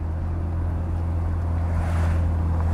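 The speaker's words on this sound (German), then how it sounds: "ist ein gesunder Sechszylinder mit einem kernigen Klang" A 1967 Mercedes 250 SE Cabriolet with its six-cylinder engine rumbles steadily while driving, a low continuous drone with wind rush over it, swelling slightly near the end.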